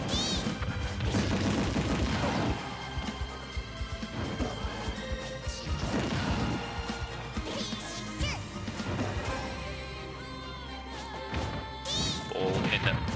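Rapid hits and smashes from a competitive Super Smash Bros. Ultimate tournament match, a steady barrage of loud game impacts with music and effects running throughout.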